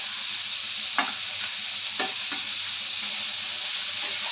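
Beans, carrots and chopped green chillies frying and being stirred in a pan for prawn pulao, a steady close sizzle broken by a few soft scrapes of the spoon.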